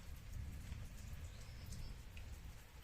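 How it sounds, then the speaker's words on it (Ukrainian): Steady rain falls outdoors, a dense low hiss with scattered drips on nearby surfaces, continuous and fairly faint throughout. "Бачите, який дощ"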